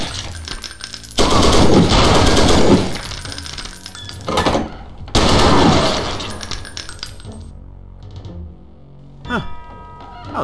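MG42 machine gun bursts rattle loudly in the Wolfenstein game: two long sustained volleys and a shorter one, followed by a few metallic clinks and thuds.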